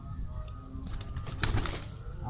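Pigeons coo softly in a loft housing a flock, with a brief flutter of wings midway, set against a steady low background hum.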